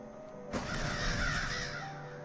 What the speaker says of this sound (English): Who keeps birds in the basement?